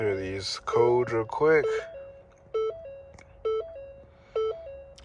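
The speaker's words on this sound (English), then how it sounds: "Sorry for that annoying beeping noise." Repeated electronic beeps sound while trouble codes are cleared on a 2016 Ford Escape with a no-crank, no-start fault, a steady tone stepping up and down in short bursts after someone speaks briefly.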